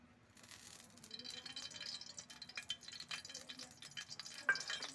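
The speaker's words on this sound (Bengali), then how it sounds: "তার জন্য কড়াইতে তেল দিয়ে দিচ্ছি" Oil poured into a wok and starting to heat for fish curry, a faint soft sizzle with light stirring and utensil rattles in a quiet kitchen.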